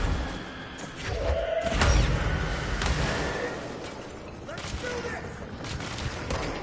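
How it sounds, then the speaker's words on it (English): Explosions and heavy impacts from exploding enemies in the video game Control, a dense roar of booms, thuds and crackling bursts over rumbling combat noise, loud and close throughout. "These guys explode!"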